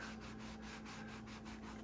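A refrigerator door is buffed to lift rust stains, giving a faint, rhythmic rubbing and scrubbing with quick, even back-and-forth strokes and no voices.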